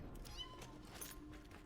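A cat in a video game gives a short, clear meow, then a second quieter mew, heard alone over a steady low background hum.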